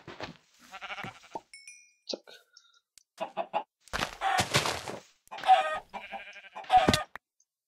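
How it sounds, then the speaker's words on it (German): Blocky Minecraft sheep bleat in short, wavering bursts, several calls spread across the stretch alongside other brief game sounds, with quiet gaps between. "Oh, ich habe einen Schaf gehört."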